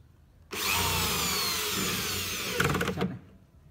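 A power drill bores into wood at a woodworking shop, a loud steady whine that runs for about two and a half seconds, then a short rattling burst before it stops.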